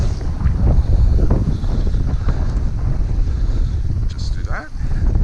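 Strong nor'easter wind, around 25 mph, roars and buffets across the microphone on a sheltered bay aboard a 32-foot Sea Vee boat, with choppy water slapping beneath the constant gusty rush.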